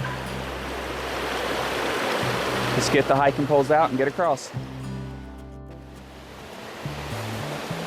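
A creek flows at a hiking-trail crossing in the Noland Creek area, a steady rushing wash of water close by, while a person talks over it partway through.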